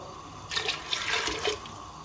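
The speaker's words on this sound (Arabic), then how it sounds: "غادي نضيف الزيت، وغادي نضيف الماء" Water poured from a vessel into a cooking pot while preparing a lentil and fish dish, a short splashing pour of about one second, fairly quiet and close.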